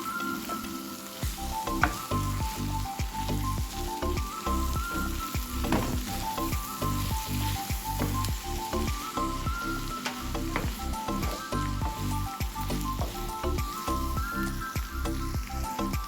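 Cluster beans being stirred and fried in a pan give off a loud, steady sizzle with repeated scraping strokes of stirring throughout, no talking.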